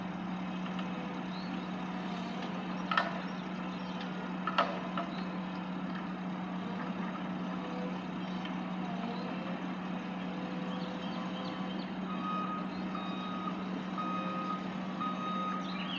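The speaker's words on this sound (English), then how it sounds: "Here we got another truck coming down." At a construction site, a truck engine rumbles and idles steadily while repeated reversing beeps sound in an even rhythm, moderately distant, with a couple of sharp clanks early on and no talking.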